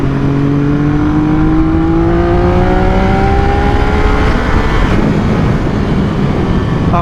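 Triumph triple motorcycle accelerating hard from a launch on part throttle over a bumpy surface, engine note climbing steadily in pitch, then turning to rough roar and wind noise, loud and continuous.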